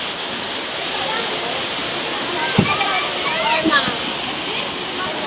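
Tinago Falls in Iligan City pours down as a loud, steady rush of falling water close by, with a few brief voices and splashes breaking through.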